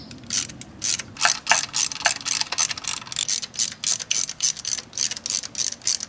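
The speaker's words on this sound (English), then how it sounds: "all that's left is removing all these bolts that hold this upper intake manifold in" A hand ratchet backs out 8mm bolts on the upper intake manifold of a Chevy 3.8L engine, with repeated close, crisp clicking bursts in a steady rhythm with short pauses between strokes.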